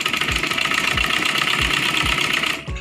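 A sewing machine stitches fabric for a Rajputi kanchali blouse, its motor humming steadily with a regular low thump under the whir, close and fairly loud, stopping just before the end.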